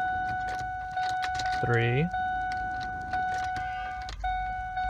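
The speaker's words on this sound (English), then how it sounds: "So now you take your key. You prime your fuel pump." An ignition key turns from off to on in a late-1990s Ford F150 to prime the fuel pump, giving a short rising electric whir amid steady cabin chimes and small clicks, with someone talking.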